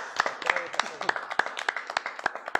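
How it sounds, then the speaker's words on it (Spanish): Sparse, distinct handclaps at a live band night, about a dozen sharp claps in an uneven rhythm while a voice speaks over them. "un fuerte aplauso a..."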